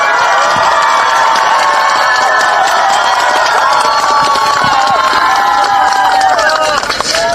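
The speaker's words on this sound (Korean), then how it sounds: "힘차게 한번 박수로 모셔보겠습니다" A close, loud crowd at an outdoor press conference protest cheers and claps, with shouting voices over continuous applause that holds steady before tapering slightly at the end.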